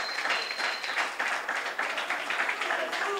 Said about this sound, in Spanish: Qué les parece si bendicen al Señor y le dan un aplauso a Jesús?